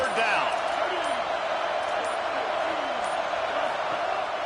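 A home football crowd roars in a dense, steady wall of noise throughout, with a commentator talking over the top.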